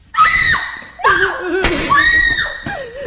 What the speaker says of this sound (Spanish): Este grito es de una persona violentada algo que no debería suceder.